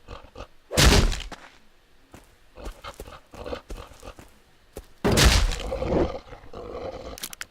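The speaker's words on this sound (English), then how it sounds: "Dang, that bear was kind of tough." A bear attacking in the survival game Rust, heavy roaring growls and thumping blows in two loud bursts separated by scattered hits and scuffling thuds.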